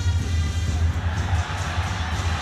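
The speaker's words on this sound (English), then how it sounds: "Volume levels raised in the crowd when he gets the ball" A football crowd at the Nam Định vs Selangor semi-final keeps up a dense, loud roar with a swell of cheering, steady throughout with a low rumbling hum beneath.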